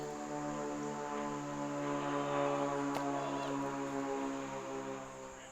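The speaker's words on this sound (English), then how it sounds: "And you hear, of course, the planes overhead." Propeller aircraft drone steadily overhead near Cincinnati airport during a disc golf round, a harmonic hum that swells toward the middle and fades slightly, with a sharp knock near three seconds.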